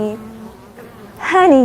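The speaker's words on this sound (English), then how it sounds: "Honeybees!" A honeybee buzzing, a loud, close drone that swells sharply near the end after a quieter low hum.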